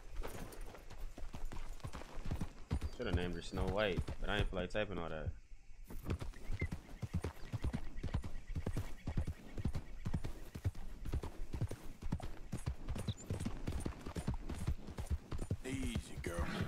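Horse hooves clip-clopping steadily in Red Dead Redemption 2, with a whinny or neigh near the middle and the galloping rhythm continuing to the end while someone talks over it.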